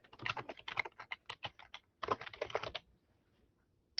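Quick bursts of typing on a computer keyboard, close and crisp, with a brief pause near the middle before a second run of keystrokes, then quiet.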